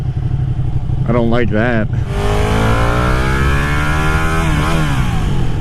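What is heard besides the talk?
Ducati Panigale 959 motorcycle engine through stock exhaust pipe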